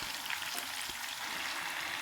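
Mustard greens dropped into a hot tadka in a pan, giving a steady, fairly soft hiss and sizzle that runs right through with no talking.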